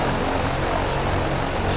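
Propeller aircraft in flight droning steadily and loudly from close inside the cockpit, a dense continuous engine and airscrew hum with no pause or talk.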